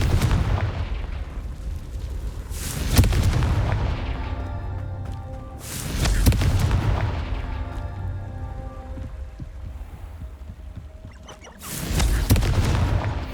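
Confringo fire spell explosions in the Hogwarts Legacy video game, three loud booming blasts roughly every few seconds, each with a crackling decaying tail and rumbling low end over a continuous game soundscape.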